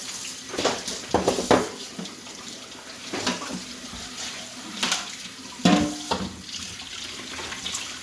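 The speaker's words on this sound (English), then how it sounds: "I'm just going to wash my hands" Running tap water splashes steadily into a sink as hands are washed after preparing cauliflower batter in a kitchen, with a few louder splashes and knocks over the continuous flow, close by and with no speech.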